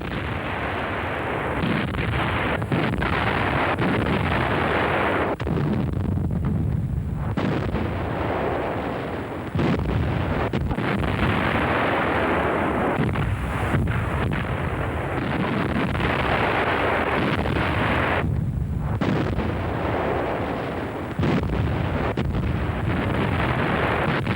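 German Wehrmacht heavy artillery guns firing during the early months of Operation Barbarossa, heard as repeated loud booming blasts and rumbling roars that nearly fill the whole stretch, with short dips between shots.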